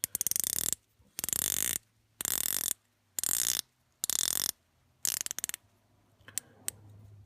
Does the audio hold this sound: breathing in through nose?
no